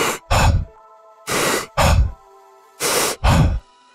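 Quick, deep breathwork breathing, three pairs of big audible inhales and relaxed exhales in an even rhythm, close and loud with brief pauses between pairs.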